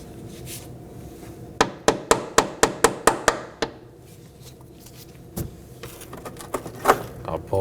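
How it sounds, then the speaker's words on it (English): A series of about nine quick, light metallic hammer taps on a front brake hose of a Nissan Maxima in an even rhythm, close up, followed by a few scattered knocks and clatter. "To remove our hose, I'm going to lightly strike it with a hammer."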